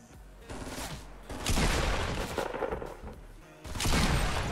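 Rapid bursts of gunfire in Fortnite Battle Royale, loud and close, coming in three dense volleys with short gaps between them and no talk over it.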